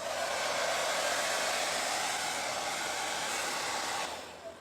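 A hair dryer blows on fresh paint on a stenciled patriotic T-shirt. Its loud, steady, close whoosh runs almost the whole time, then cuts off near the end, with no voices.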